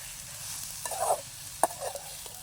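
Egg with tomato stir-frying in a pan, a faint sizzle with a few quick scraping stirs and light clinks, quiet and close.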